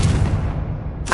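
A Confringo blasting spell explodes in Hogwarts Legacy, a single close, loud boom with a heavy low rumble that fades over about a second, followed by a sharp crackle at the end.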